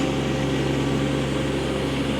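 A 2017 Kubota B2301 compact tractor loader backhoe with a 23 HP diesel engine runs steadily nearby, a constant low rumbling drone with no pauses or voices.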